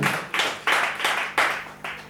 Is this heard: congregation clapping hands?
yes